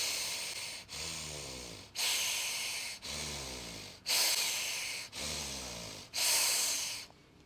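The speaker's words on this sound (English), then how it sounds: "most of the breathing is coming from the chest" Forceful rhythmic yoga breathing from the chest, six sharp, hissing exhalations close to the microphone at roughly one-second intervals, each followed by a quick gap.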